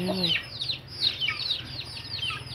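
A young rooster and chickens in a backyard flock make a quick series of high chirpy clucks and short calls, fairly close, with a brief spoken word at the start.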